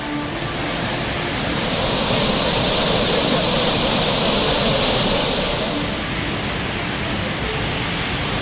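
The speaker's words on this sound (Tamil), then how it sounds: "தென்காசி மாவட்டம் குற்றாலத்தில் கனமழையால் அருவிகளுக்கு நீர்வரத்து அதிகரிப்பு" A broad, constant roar of the main waterfall at Courtallam in Tenkasi district, swollen by heavy rain, loud and close with a steady rush of falling water throughout.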